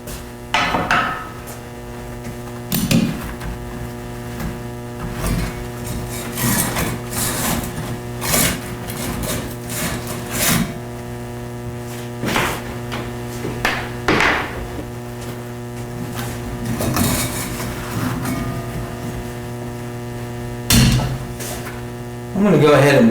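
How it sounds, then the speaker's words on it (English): Multi-tool refinishing machine running steadily with a constant motor hum while a golf club head is worked against its blue wheel, with intermittent scraping and knocking contacts over the drone. "Now I'm ready to change belts, go to the blue wheel,"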